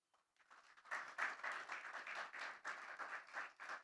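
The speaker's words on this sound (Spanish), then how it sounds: "Denle un aplauso a Cristo, hermano." A church congregation claps for several seconds during a sermon, a steady, moderately loud round of applause with dense overlapping hand claps.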